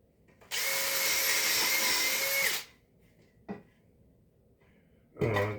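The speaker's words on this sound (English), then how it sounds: "Drill this in place." A power drill whirs loudly for about two seconds as it drives into wood, followed by a quiet pause, a brief knock, and a short second burst.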